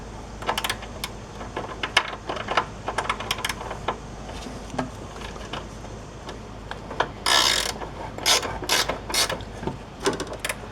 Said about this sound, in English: I think I need a ratchet wrench to get that started